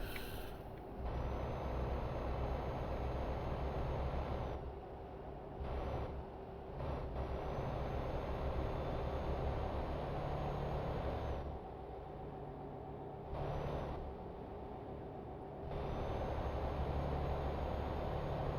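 Truck engine in a trucking video game: a steady, low diesel drone interrupted by several short pauses and the hiss of air brakes, fairly quiet and without talk.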